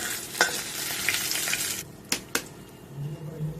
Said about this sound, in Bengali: একই তেলে আমি ডিম ভেজে নেবো।